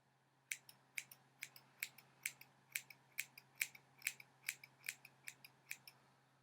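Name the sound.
cutting hair fringe with scissors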